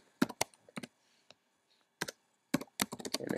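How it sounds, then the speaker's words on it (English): Computer keyboard typing in quick clusters of close, crisp key clicks with short pauses between bursts, loud and alone in an otherwise quiet room. "So I'm just going to quickly type that in."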